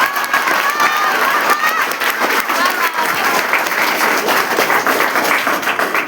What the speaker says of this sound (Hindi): चौथी लाइन में आप ताली बजाएं